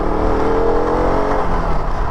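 A KTM RC 200 motorcycle engine revs as the throttle is twisted, a loud, close, steady droning roar with a rising tone, heard alone.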